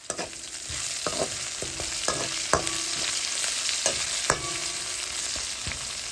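Cabbage with salt being sautéed in a pan for an Aadi Amavasai curry: a steady bright sizzle with repeated sharp clinks and scrapes of a spoon stirring against the pan, close by, with no talking.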